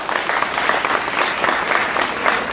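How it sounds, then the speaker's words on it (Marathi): Steady applause from an audience at an outdoor marathon prize ceremony, a dense continuous clapping sustained throughout with no pauses. "प्रणालीसाठी टाळ्या."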